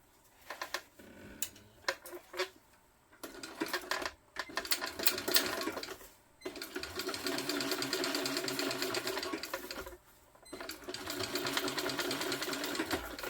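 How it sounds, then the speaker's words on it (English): A sewing machine top-stitching the lining of a tote bag runs in several steady bursts of close, busy whirring, separated by brief pauses. "we're going to top stitch on the lining"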